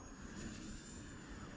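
A small radio-controlled model airplane, the Pocket Rocket, drones steadily overhead with a continuous engine whine, faint and at a distance.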